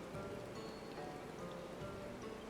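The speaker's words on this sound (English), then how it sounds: "it's rainy as heck here" Steady rainfall in Final Fantasy XIV, an even hiss of drops pattering on surfaces with no break, moderately quiet and continuous throughout.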